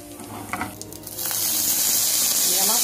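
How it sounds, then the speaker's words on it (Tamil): Mustard seeds dropped into hot oil for tempering, a sudden loud hissing sizzle that swells and holds steady with faint popping, following some quieter kitchen sounds and a voice. "கடுகு போட்டுக்கலாம்."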